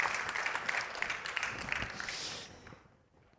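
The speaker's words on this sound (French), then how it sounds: "on peut les applaudir" A theatre audience claps in a steady, lively round of applause that holds for a few seconds before fading out quickly near the end.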